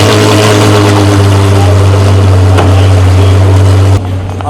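A De Tomaso P72 V12 rumbles with a loud, steady low engine drone while driving near Salon Prive, the tone holding constant before dropping slightly at the end.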